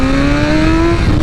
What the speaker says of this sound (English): Let me see here if I can get a good warm up on this tire.